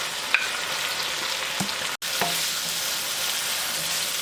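Onion sizzling in hot oil with ginger garlic paste in a wok, a steady broadband frying hiss with a few faint stirring knocks and one brief dropout midway; no talking.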